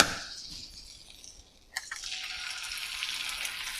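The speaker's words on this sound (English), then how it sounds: "Hear that nice sizzle when it drops in." A cracked egg drops into a hot buttered pan, and a sharp click is followed at once by a bright, steady sizzle that carries on alone at moderate loudness.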